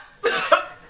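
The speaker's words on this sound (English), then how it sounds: "I was trying to clear my throat a little bit." One short throat clearing from a person nearby, a single rough burst with a second push right after, followed by quiet.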